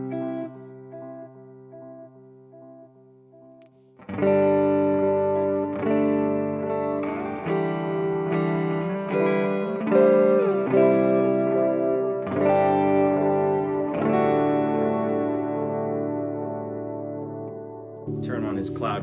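Electric guitar run through a dark swell pedal effect on a pedalboard: sustained, heavily processed chords bloom in after a quiet intro, layered with long reverb-like washes and shimmering harmonics, loud and alone without talk.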